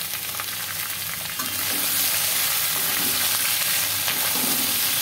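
Raw mixed vegetables for a Bengali shukto with singi fish stirred in a hot frying pan, a steady loud sizzle and crackle with scraping stir sounds, no voices.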